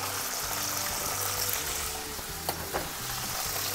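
Lemon peel and clams stir-fried over medium heat in a pan for bongole bianco, a steady close sizzle with a couple of brief clicks from the utensil.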